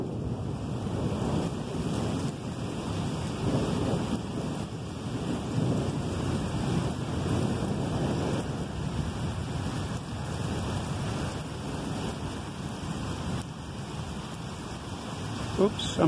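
A constant heavy rumble of wind and rain from a thunderstorm in San Antonio fills the scene, with a deep roll like distant thunder underneath; a voice may murmur faintly beneath it.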